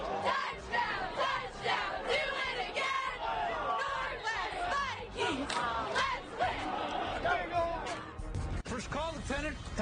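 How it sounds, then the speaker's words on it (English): The Northwest Guilford cheerleading team shouts a loud, rhythmic group cheer at a Friday night high school football game, the many voices chanting in unison and echoing over the crowd. "the cheer of the night from the team at Northwest Guilford"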